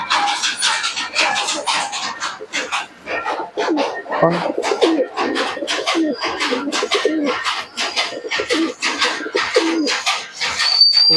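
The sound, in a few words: Pakistani Teddy pigeon cooing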